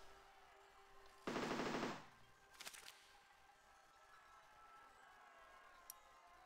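A short, loud burst of rapid machine-gun fire from a player-built vehicle in the building game Besiege, lasting under a second, followed by a few fainter clatters against a quiet background hum.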